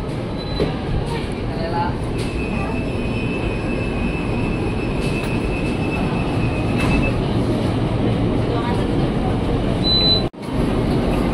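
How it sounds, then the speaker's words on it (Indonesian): A new INKA-built KRL electric commuter train rumbles and hums steadily as it pulls away from Jakarta Kota station, with a thin high whine and a sharp clunk near the end. "KRL baru Inka berangkat dari jalur 10 stasiun Jakarta Kota."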